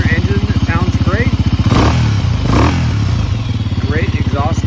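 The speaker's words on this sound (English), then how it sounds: "Single cylinder engine, it sounds great." A 2020 Genuine G400c single-cylinder motorcycle, built on an old Honda CB400 power plant, thumps at idle with a steady pulsing exhaust beat, then rises briefly through two revs before settling back, loud and close, with talk over it.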